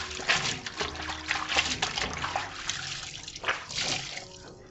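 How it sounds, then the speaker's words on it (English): Clothes are washed by hand in water, with repeated sloshing, splashing and dripping as fabric is worked and squeezed, a steady close run of wet bursts without speech. "this is how I wash my clothes"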